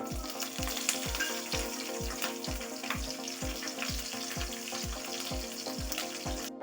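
Green chillies fry in oil in a pan for a coconut rice dish, with a steady sizzle and a rhythmic regular clicking or stirring pulse throughout, close and fairly loud.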